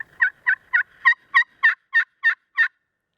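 A run of nine crisp, high-pitched turkey yelps from a glass pot call, evenly paced and close, building slightly in intensity before stopping into silence.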